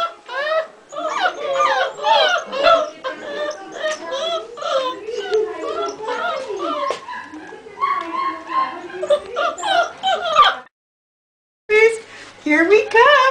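Several puppies whimper, yip and whine almost without pause in a busy overlapping chorus, close by and fairly loud, with a brief silence near the end before the cries resume.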